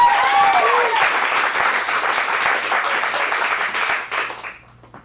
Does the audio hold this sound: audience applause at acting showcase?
yes